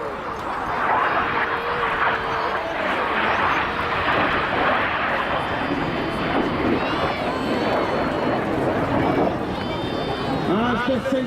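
Red Arrows jets performing a display at the Ayr air show, a broad continuous engine roar sustained throughout, with a crowd in the background and a commentator talking over it.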